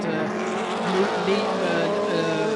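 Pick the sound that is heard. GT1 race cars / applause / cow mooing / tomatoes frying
GT1 race cars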